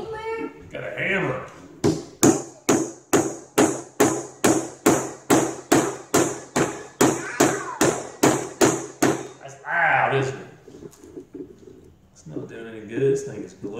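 Steady hammer blows, about twenty sharp regular strikes roughly every half second, loud and close, with a person talking before and after.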